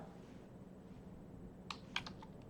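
A URL is typed on a computer keyboard: a short quick burst of a few crisp key clicks near the end, after a quiet room hum.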